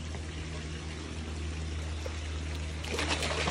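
Water pouring from a pool autofill, a faint, steady trickle over a low mechanical hum, swelling slightly toward the end.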